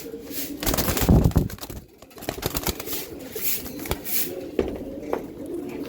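Pigeons cooing nearby at a loft breeding flying and racing pigeons, soft repeated coos over a rustling, busy background with a louder burst early on.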